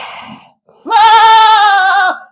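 A goat on the grooming stand lets out one loud, close, drawn-out bleat lasting over a second, after a short breathy sound.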